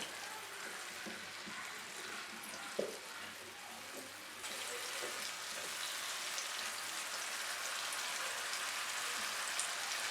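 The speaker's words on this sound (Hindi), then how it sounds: "अब इनको तकरीबन 3 से 4 मिनट भूनेंगे" About twenty small baby potatoes frying in oil in a pan for a Kashmiri dum aloo, giving a steady, even sizzle. It has the hiss of light rain and grows slightly louder partway through.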